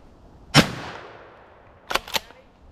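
Gunshots while hunting grey squirrels on public land: one sharp crack with a lingering echo, then after a pause two quicker shots close together, loud and outdoors.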